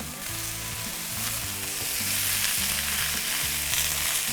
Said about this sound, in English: You hear that sizzle, that's what you wanna hear.